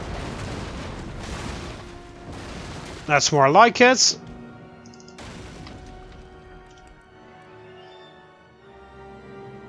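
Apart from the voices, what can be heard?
ship's front cannons firing in the video game Empire Total War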